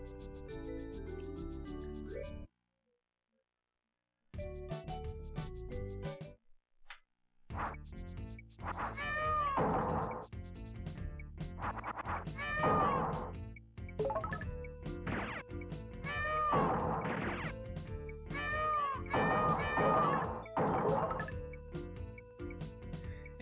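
Enemies in the SNES game Magic Boy let out repeated cat-like meows over bouncy chiptune music, several yowls coming in quick clusters after a short silent gap.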